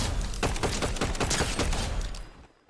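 Rapid weapon fire in Fortnite, a dense burst of shots in quick succession lasting about two seconds, loud and close, then cutting off into near silence.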